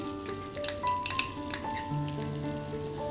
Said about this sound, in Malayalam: അങ്ങനെ വെളുത്തുള്ളി എന്തിട്ടുണ്ട് നല്ലോണം മൂത്ത് വന്നിട്ടുണ്ട്